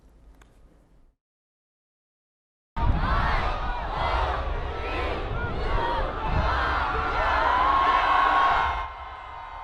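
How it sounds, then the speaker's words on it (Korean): Fans in the World Cup fan zone in Doha roar and cheer as a dense, sustained crowd, loud and close, with shouts and whoops rising from the mass; a short faint passage and silence come before the crowd sound bursts in. "객석을 가득 채운 사람들이 환호성을 지릅니다"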